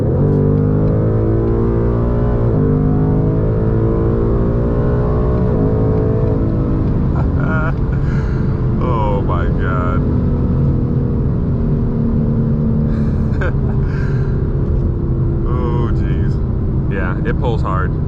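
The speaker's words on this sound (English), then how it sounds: "this is my 2020 Mustang GT 10-speed with a Borla exhaust" A 2020 Ford Mustang GT with a 10-speed and Borla exhaust accelerating hard, a loud rising engine note climbing through gears with shift breaks, a voice talking over it inside the car.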